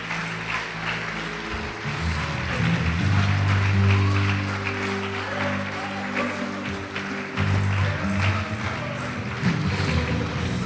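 A congregation at a church service applauds loudly, a dense, sustained wash of clapping that runs the whole way through over steady, low droning tones.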